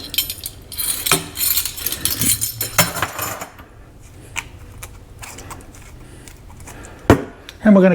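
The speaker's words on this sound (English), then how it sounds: "And we're gonna cut up some cilantro." A knife chops fresh cilantro on a cutting board, producing a run of quick, close taps and thuds with brief pauses, heard over kitchen clatter and faint background.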